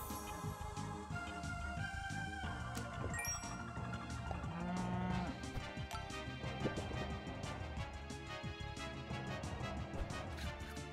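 Cow mooing in the video game Super Auto Pets, heard amid a dense, busy mix of steady game music and effects that runs throughout.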